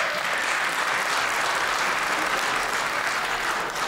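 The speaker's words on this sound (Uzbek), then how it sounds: "Qarsak chalilar ham." A stand-up comedy concert audience claps steadily, a dense, even wash of applause filling the room without a break.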